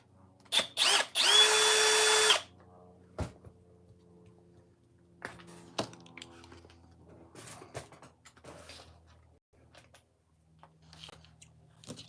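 A power screwdriver whirs loudly in a couple of short bursts, then a longer run, as it unscrews a toy servo. Quieter clicks and handling noises follow.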